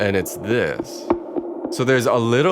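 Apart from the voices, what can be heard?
No distinct noise like a dog, phone or traffic.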